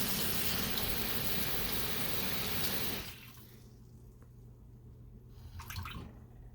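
Water pours steadily into a measuring cup for Swedish bread dough, a bright splashing stream for about three seconds that stops, leaving a quiet room with a faint clink near the end.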